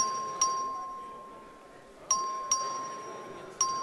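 A clerk's voting bell in the Texas House chamber rings in four sharp, clear dings, each tone ringing out and fading in a quiet hall.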